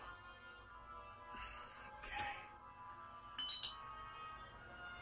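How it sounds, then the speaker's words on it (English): Johnnie Walker whisky is poured from a Bohemian lead crystal decanter into a glass. It is a quiet scene with a couple of bright, sharp crystal clinks a second apart and faint soft handling sounds between them. "So I'll just pour a glass if you don't mind."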